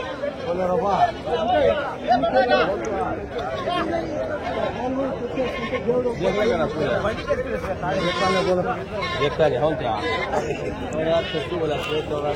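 Sheep bleat amid the bustle of an outdoor sheep and ram market, repeated calls rising over constant crowd chatter and nearby voices.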